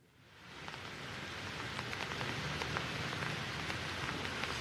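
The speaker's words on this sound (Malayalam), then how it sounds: "ഇന്ന് രാവിലെ മുതൽ ശക്തമായ ഇടവിട്ട മഴ തുടരുന്നൊരു കാലാവസ്ഥ തന്നെയാണ്" Heavy rain pours down in Kozhikode district, rising quickly from quiet into a dense, steady patter of drops striking surfaces close by, continuous with no voices.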